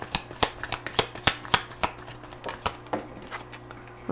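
Tarot cards are shuffled close by, giving a run of sharp riffling snaps and flicks at an uneven rhythm over about four seconds, with no talk.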